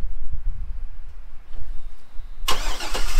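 A 2008 Cadillac Escalade engine starting by factory remote start, with a low rumble of cranking and catching, then a sudden broader whoosh as it settles into a steady idle, close by.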